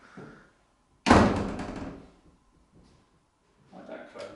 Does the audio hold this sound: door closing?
yes